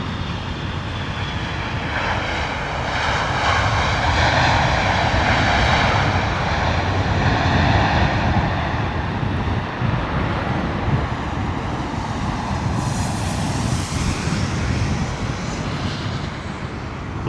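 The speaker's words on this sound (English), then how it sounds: "Bring it down, British Airways 777, coming in, full noise." A British Airways Boeing 777 landing at London Heathrow in wet, windy weather, its engines a loud steady roar held throughout with a rising whine near the end, mixed with wind and road traffic noise.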